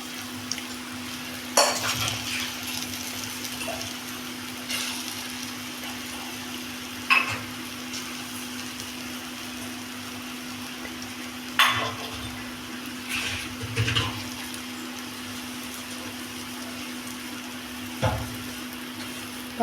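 Urad dal vada frying in hot oil for evening snacks, a steady close sizzle and crackle with occasional clinks and scrapes of a utensil stirring in the pan.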